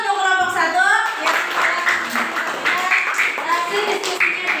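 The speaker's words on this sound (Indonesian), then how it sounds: "beri tepuk tangan untuk kelompok 1" Classroom audience clapping for a discussion group, a modest round of hand claps running throughout with voices talking over it.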